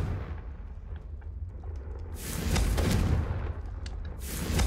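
Confringo explosive hex spell cast in a video game, a deep rumbling blast that swells in the middle of a steady low roar, loud and close, with no speech over it.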